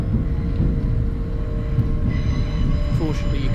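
A passenger train rolls into Darlington station with a steady low rumble of wheels on track and faint squeals and clicks, heard from inside the carriage.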